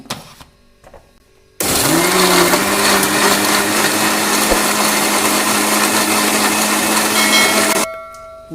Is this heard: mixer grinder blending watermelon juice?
yes